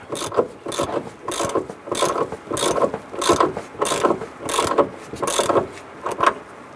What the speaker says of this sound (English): I'm going to switch over to our ratchet to speed things up.